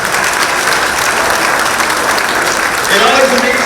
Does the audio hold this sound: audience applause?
yes